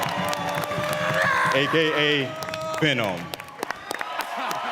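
Comic Con panel audience cheers and applauds, a crowd roar under a loud amplified announcer voice that speaks over it throughout, with shouts rising midway.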